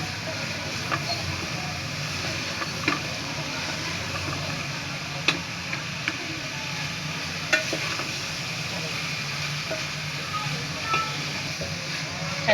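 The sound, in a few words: stirring and frying aloo gobhi (potato and cauliflower) in a pan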